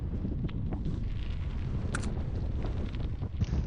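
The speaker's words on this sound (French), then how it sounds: "là le vent c'est violent" Strong wind buffets the microphone outdoors in a coastal lagoon area, a steady loud roar and rumble throughout with a few gusty swells and no speech.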